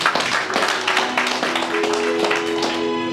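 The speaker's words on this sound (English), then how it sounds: "You can clap hands." A crowd at a birthday celebration in Abu Dhabi claps steadily, many hands overlapping in a loud, continuous patter.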